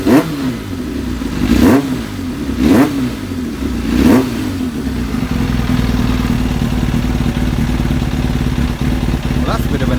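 Kawasaki ZX7R Ninja motorcycle engine ticking over at idle: a steady, close low rumble with three throttle blips early on, then even idling.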